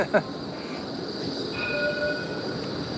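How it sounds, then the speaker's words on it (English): A Melbourne city tram rolls along its rails in a busy central street, a steady rumble with a thin high squeal of the wheels rising midway, heard amid general city noise. "Iconic trams, they're all free in the centre of Melbourne."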